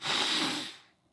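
One short, forceful breath drawn in through the nose, close and rushing, fading out within a second.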